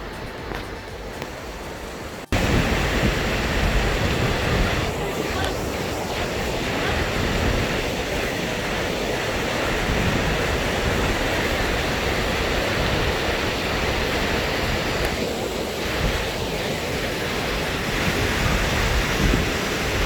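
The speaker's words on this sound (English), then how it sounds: "There is a river going parallel" A river runs parallel to a mountain trail, producing a loud, steady broadband rush that sounds close and continuous, mixed with some wind buffeting, with no talking.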